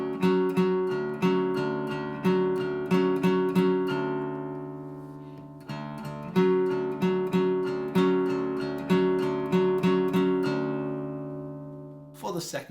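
Acoustic guitar slowly playing the opening two bars of a song, a bass note followed by three strums on the high strings, repeated in a steady rhythm, close and clear with no talking.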